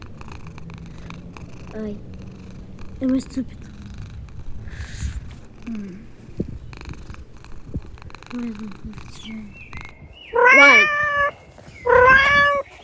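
A cat purrs steadily and then gives two loud, drawn-out meows near the end, from the video game Mouse Trap: Escape from Lania, with someone speaking briefly over it.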